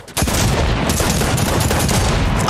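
Rapid, loud bursts of automatic gunfire in Fortnite, sustained and dense, begin abruptly after a brief quiet start, with no talk.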